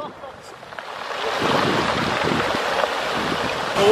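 Ocean surf at Pebble Beach, with white sand and clear water, makes a broad steady wash that swells after a quieter start and carries wind rumble over the microphone, with no clear talk.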